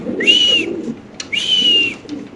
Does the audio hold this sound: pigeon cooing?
yes